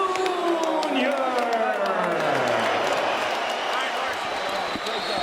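A boxing crowd at a welterweight title fight cheers and applauds steadily, a dense, loud roar of voices and clapping sustained throughout, with a commentator's voice talking over it.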